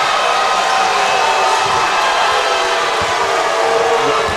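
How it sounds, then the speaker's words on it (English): Home Lobo fans at a Melissa versus Longview area playoff basketball game react to a disputed jump ball call with a sustained crowd roar of booing and jeering inside the gym, broad and continuous. "The Lobo crowd don't like it."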